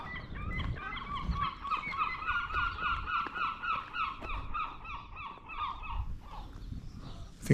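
Seagulls in an English seaside town call over and over in a busy, overlapping chorus of harsh, wavering cries, fairly close and steady throughout, with faint outdoor background noise beneath.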